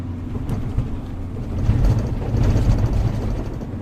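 A vehicle drives along a road with a steady low engine rumble and road noise that swells slightly midway, continuous and fairly close, with no voices.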